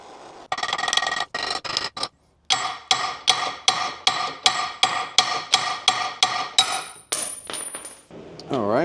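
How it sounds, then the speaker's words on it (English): Hammer blows ringing on a Jeep TJ lower ball joint after heating, about sixteen sharp metallic strikes in a steady rhythm with a short pause partway, close and loud. "So I'm going to put a little heat on this and then hammer on it just a little bit"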